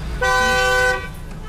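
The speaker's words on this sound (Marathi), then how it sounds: "नुसतं आपला हॉर्न आहे गाडीला म्हणून वाजवायचा मोठ्याने" A car horn blasts once, loud and close, holding a steady bright tone for under a second before cutting off.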